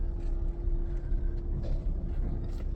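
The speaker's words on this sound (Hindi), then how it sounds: "ये मैं लेके गया गाड़ी को आगे," A Toyota rolling forward in drive during transmission calibration after a transmission oil change, a steady low engine rumble with a constant hum, close and even, with no talking.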